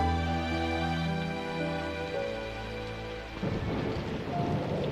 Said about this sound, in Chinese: 雷电交加